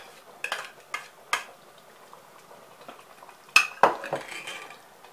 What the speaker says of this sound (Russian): Перемешиваю. И выливаю готовый соус, что я приготовила. Также выливаю в кастрюлю.